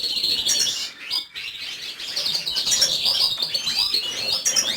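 A Portuguese harlequin canary chirping rapidly in a close cage, bright high tweets in quick bursts with a short pause, flutters of wings, and no voices.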